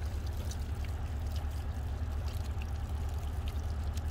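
A steady stream of water pours continuously, a constant splashing rush with no pauses and no voices.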